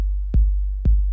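An 808 drum sample plays as a deep, sustained bass drone with two punchy low thumps about half a second apart, close and alone.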